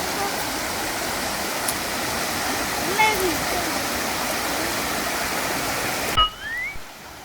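A stream in Dodeoksan park rushes steadily with a full, broad flow of water, close and constant, until it cuts off abruptly near the end. A faint voice is briefly heard under the water.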